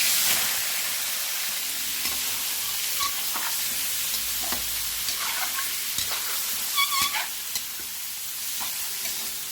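Pork browning in oil in a frying pan for afritada, a steady broad hiss of sizzling with scattered small pops and occasional scraping stirs, close and continuous.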